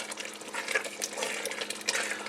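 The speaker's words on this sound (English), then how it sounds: "let's look at this chili and see it bubbling" Chili simmering in a cooking pot, a steady wet bubbling and popping that runs continuously at moderate volume, close up, with no talk over it.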